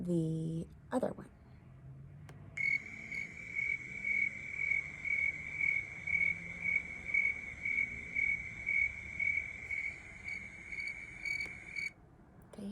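A single cricket chirps loud and fast in one long, continuous high trill that runs for about nine seconds. Low background noise pulses beneath it, and short bursts of other sound come before and after.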